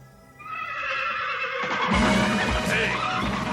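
A horse whinnying loudly and close, a drawn-out shrill neigh that rises and wavers over a few seconds, alone without talk.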